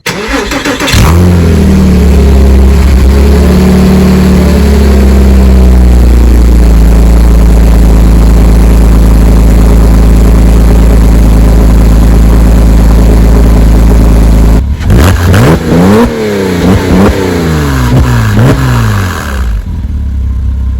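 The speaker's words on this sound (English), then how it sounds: "I'll insert an exhaust clip here so you can see what it sounds like." A 2006 Porsche Cayman S with an aftermarket exhaust idles loudly with a deep, steady rumble, then revs sharply several times in quick bursts before settling, close and alone.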